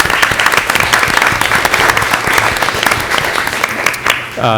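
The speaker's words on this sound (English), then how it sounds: "So we'll have one more round of applause." Audience at a school board meeting breaks into sustained applause, dense steady clapping from many hands filling the room, with a voice starting up right at the end.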